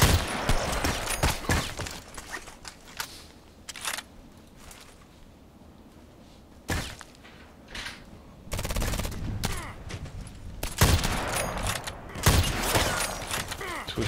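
Gunshots in the online shooter Contract Wars go off as several sharp, loud cracks spread irregularly over about fourteen seconds, mixed with mechanical clicks and continuous game ambience.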